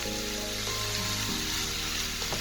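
Paprika-seasoned minced beef gratin mixture sizzles and simmers steadily in a pan, a close, continuous frying hiss with soft bubbling throughout.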